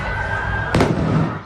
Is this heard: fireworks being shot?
yes